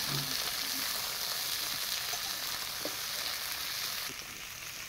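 Pointed gourd and potato pieces frying with onion in a pan give a steady, loud sizzle that continues unbroken, with a few faint stirring clicks and no talk.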